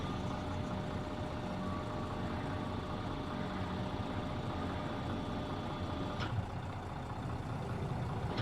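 An evacuator tow truck driving in the SnowRunner off-road game, a steady droning engine with a constant whine above it and a brief shift partway through, no talking.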